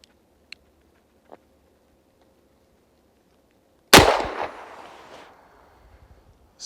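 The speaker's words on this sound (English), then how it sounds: "Let's see if I can make up for it on shot number 2." A single loud, sharp shot from a Smith & Wesson Model 27-9 revolver cracks out after near silence, then trails off in a long echoing decay, with a few faint ticks beforehand.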